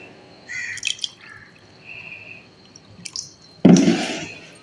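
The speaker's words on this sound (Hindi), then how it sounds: "तो मैं पानी थोड़ा सा और डाल देती हूँ।" Water poured into a pot of chana dal on a stove in a home kitchen: a burst of splashing and gurgling near the end, after quieter clinks and faint background birdsong, with no one speaking.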